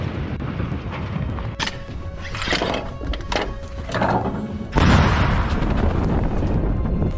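Artillery strikes explode amid frontline combat, a series of dull booms and thuds over several seconds with a heavier blast near the end, heard at a distance over constant rumbling background noise.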